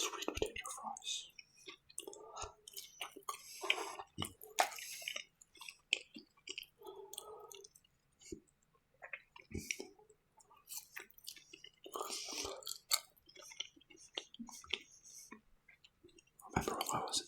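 Soft whispering mingles with close, crisp chewing of McDonald's sweet potato fries, intermittent bites and wet mouth clicks in a quiet setting, sounding intimate and near.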